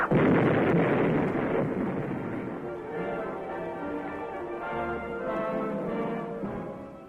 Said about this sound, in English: the charge is properly detonated from a safe distance